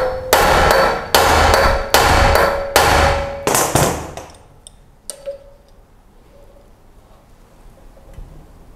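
Repeated loud hammer blows drive a Rennsteig left-hand screw extractor into a broken bolt: about seven sharp metallic strikes in steady rhythm, then a few lighter scattered taps fading out.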